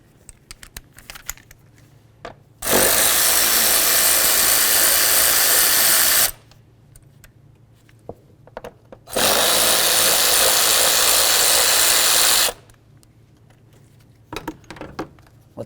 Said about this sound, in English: We're going to go ahead and remove these two bolts.